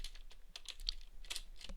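Typing on an unlit computer keyboard, a quick irregular run of light clicking keystrokes, close and fairly quiet, with no speech.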